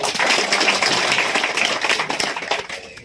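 Dense, steady clapping from a crowd at a devotional darbar gathering of Shree Silori Dham, loud and close throughout, thinning slightly toward the end.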